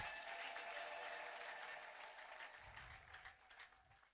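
A church congregation applauds for Jesus, a dense, sustained roar of clapping from many hands that starts loud and slowly fades, with no voices over it.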